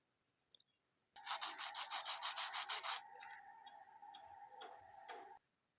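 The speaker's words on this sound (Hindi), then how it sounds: "इनकी आवाज़ से भी आपको पता चल जाएगा कि ये कितने ज़्यादा क्रिस्पी बने हैं" Loud, dry crunching as crispy fried potato bread snacks are bitten and chewed, a quick run of crackly bursts followed by softer chewing, close up.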